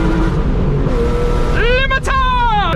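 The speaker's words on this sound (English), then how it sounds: "The car is still mad loud." Loud BMW E36 engine and exhaust while driving, a constant heavy drone that rises sharply in pitch as the revs climb, drops briefly at a gear change, then climbs again, with a voice speaking over it.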